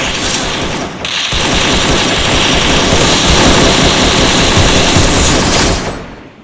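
Loud, dense gunfire and explosive booms from a 1v1 shooting video game roar almost without pause for about six seconds. A brief dip comes near the one-second mark, and the barrage tails off at the end.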